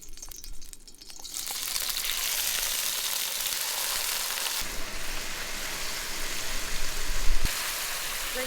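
Food frying in oil in a pan at a beach campsite, a loud steady sizzle that starts with a burst and holds, with a brief clank near the end.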